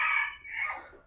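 A jungle fowl rooster crows once in a breeding pen, a loud, close, brassy call that rises and then trails off over about a second.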